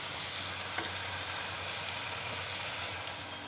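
Vegetable pithe snacks deep-frying in hot oil give a steady, even sizzle that runs unbroken for the whole stretch, with no talking over it.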